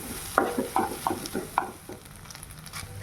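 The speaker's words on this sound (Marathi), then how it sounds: "हे सर्व मिश्रण एकत्र हलवून घेऊया" Boiled, chopped and grated potato being stirred into a vegetable mixture in a pan, a few quick scraping and clinking strokes of a spoon early on over a soft sizzle, then quieter frying.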